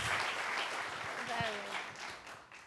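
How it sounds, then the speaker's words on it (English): Audience clapping at a cast and creator conversation fills the room, with a voice speaking briefly over the dense applause before it thins. "Clap it up."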